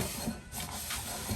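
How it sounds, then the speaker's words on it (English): Cooking spray hisses from a can onto a muffin pan in a brief, fairly quiet continuous spray lasting just over a second, with no talking. "Grease your pan up a little bit."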